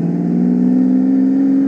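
A kit car at the Stoneleigh Kit Car Show whose engine sounds almost like a Lamborghini gives a loud, steady, close-up drone with a smooth, sustained tone and no breaks.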